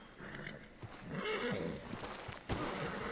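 A horse in a PS4 video game whinnies loudly once, a short rising-and-falling neigh followed by faint hoof clip-clops and game noise.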